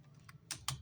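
Quick keystrokes on a computer keyboard, a few distinct clicky taps in a short burst, close and fairly quiet, with no talking.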